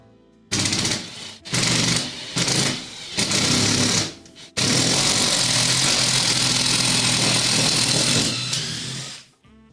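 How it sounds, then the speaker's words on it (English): A Makita drill bores ventilation holes in a wooden bluebird nesting box, a loud close whirring grind in several short bursts with brief pauses, then one long sustained run before stopping. "let's drill some ventilation holes."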